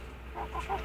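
A voice imitating a hen, giving a quick series of short clucks that grow slightly louder over a second.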